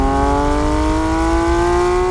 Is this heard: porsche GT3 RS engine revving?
yes